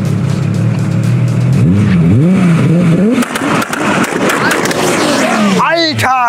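A 750 hp Audi A3 engine revs hard and climbs in pitch in repeated sweeping pulls, loud and close. People talk under the engine noise, and a final sharp rev comes at the end.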